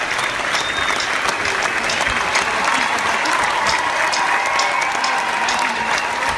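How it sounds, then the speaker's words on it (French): Loud, sustained applause from a church congregation cheering for God, a dense wash of clapping with some crowd voices mixed in and no pauses throughout. "On acclame très fort."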